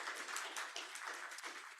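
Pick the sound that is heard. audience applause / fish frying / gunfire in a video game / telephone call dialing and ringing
audience applause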